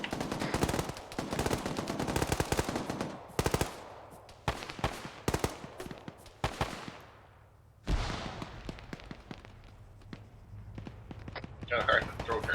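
A shooter video game crackles with repeated bursts of rapid automatic gunfire and single shots, loud and close, broken by brief lulls, with voices faintly audible in the background.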